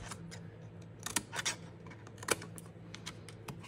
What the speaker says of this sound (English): cut the score lines along the long side and cut the corners off of the square tabs.